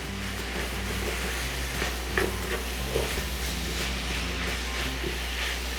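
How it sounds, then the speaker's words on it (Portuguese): A spoon stirs ground beef pie filling with chopped tomato, corn and olives in a pan, soft scraping and faint sizzling over a constant low hum, with a few light knocks and no voices. "É só misturar bem."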